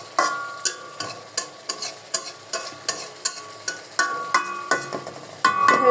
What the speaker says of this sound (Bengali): পেঁয়াজ পেঁয়াজ করে ভাজি করছি